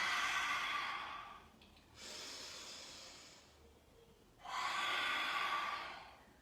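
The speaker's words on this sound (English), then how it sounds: "Exhale out with the tongue." Two long, forceful open-mouth exhales with the tongue out during a yoga breathing sequence, each a broad breathy rush lasting about two seconds, separated by a softer inhale, close and alone.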